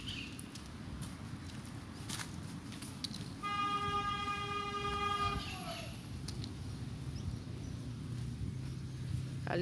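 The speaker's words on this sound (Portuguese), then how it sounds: "Ali tem um buzinando." A single sustained car horn blast sounds for about two seconds amid steady outdoor street traffic noise in Dracena, São Paulo.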